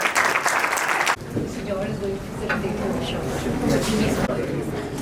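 Audience applause bursts loudly for about a second, then cuts to a quieter room with voices talking and scattered claps continuing under the speech.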